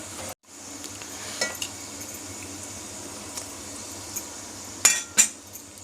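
Garlic frying in hot oil for a tempering with curry leaves, made while cooking katachi aamti: a faint, steady sizzling hiss with a few sharp utensil clinks and scrapes near the end.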